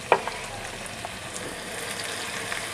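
Onions sizzle steadily in hot oil for a Punjabi chicken gravy, a soft, continuous frying crackle at moderate distance with a brief sharper pop at the start and no talking.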